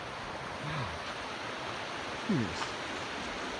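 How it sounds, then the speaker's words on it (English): Rock Creek flows far below a campground as a soft, constant rushing hiss, with a few brief spoken exclamations over it. "And the cool river's way down there."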